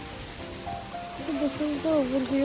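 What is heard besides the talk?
rain falling at the Beatles Ashram, Rishikesh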